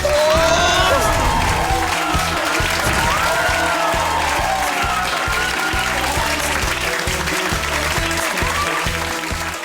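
A gathered crowd cheers and applauds loudly and steadily throughout, with voices and whoops mixed into the dense noise.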